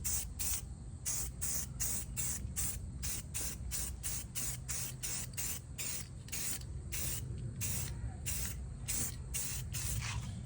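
An aerosol can sprays paint onto bare, unprimed minibike parts in a run of short, sharp hissing bursts, close and loud, each puff separated by brief gaps in a steady rhythm.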